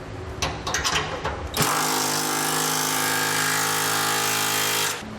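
Hardware on a rear brace of a B&W Turnoverball underbed gooseneck trailer hitch, with some clattering handling, then a steady loud power-tool whir for about three seconds before stopping.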